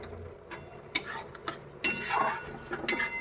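A spoon stirs spices with turmeric and cumin powder in a cooking pot, Indian village-style. Sharp metallic scrapes and clinks come in irregular bursts, close and fairly quiet, with no talk.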